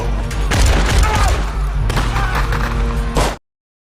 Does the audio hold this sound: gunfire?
yes